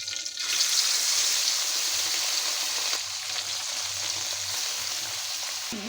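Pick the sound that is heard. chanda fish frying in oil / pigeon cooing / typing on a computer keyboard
chanda fish frying in oil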